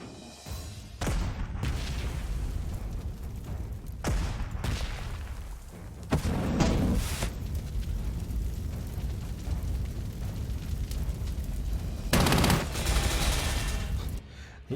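Artillery fire in the strategy game Panzer Corps 2: repeated booming blasts and rumbling gunfire stretch through the passage, with sharp loud bursts standing out near the start, middle and end.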